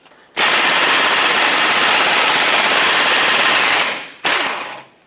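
A tool removing the two 24mm caliper bracket bolts from the front axle of a 2011-2018 Ram 2500 gives a loud, harsh, continuous rattling burst lasting several seconds, then a short second burst, close up with no speech.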